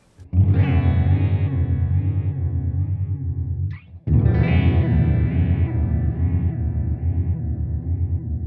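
A clean electric guitar plays through an EHX Poly Chorus pedal, producing sustained chords with a shimmering, warbling modulation. A brief gap comes before the playing resumes.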